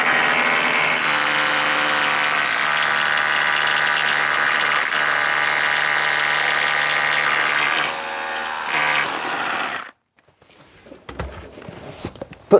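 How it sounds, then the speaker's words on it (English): A power drill whines steadily for about ten seconds, buzzing loudly as it bores into brick, then cuts off, leaving a few quiet knocks and rustles. "Drill a hole into somewhere, a nice brick"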